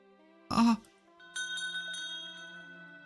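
A little bell on a necklace in the video game The House in Fata Morgana chimes with a bright, ringing onset and then a soft, sustained shimmer that fades out slowly.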